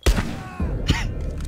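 Gunfire in the video game Rainbow Six Siege: two sharp, loud bursts of shots about a second apart, each with a short ringing tail, heard close.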